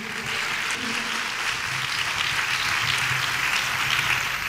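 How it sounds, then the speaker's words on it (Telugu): Church congregation clapping loudly, a dense continuous wash of applause that holds steady throughout. "చప్పట్లు కొట్టండి గట్టిగా."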